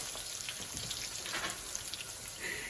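Browned sausages sizzle in a hot pan as chopped shallots, onions, peppers and green onion go in, a steady close crackling hiss with no voices.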